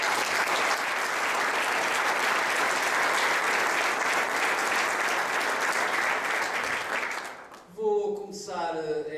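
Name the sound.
audience applause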